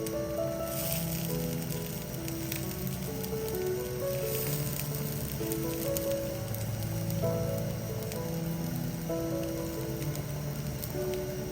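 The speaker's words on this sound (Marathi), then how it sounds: "आता याच्यामध्ये आपण खोबरं भाजून घेऊयात" Grated coconut roasting with onion in a pan, a continuous soft sizzle and crackle with scraping stirring tones, steady and close throughout with no talking.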